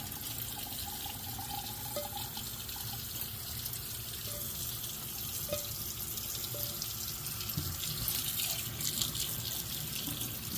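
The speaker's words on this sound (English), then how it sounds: "Let that strain, and you want to just run it under some ice cold water." Cold tap water runs steadily over a strainer for about ten seconds, a continuous broadband splashing hiss with faint clinks, with no talk over it.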